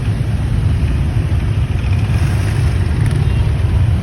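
Road traffic rumbles close by, car and motorbike engines droning in a steady, loud low hum with no talking.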